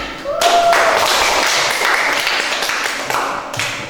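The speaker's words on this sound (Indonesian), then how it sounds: "Ya, tepuk tangan" An elementary school class claps during a lesson on butterfly life cycles, a loud burst of many hands that starts suddenly and keeps up as a thick, even rattle for over three seconds, with a brief voice at the start.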